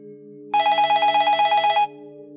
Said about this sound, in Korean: 그날 밤 또 전화가 울렸어요.